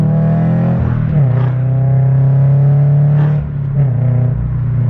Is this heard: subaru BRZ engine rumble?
yes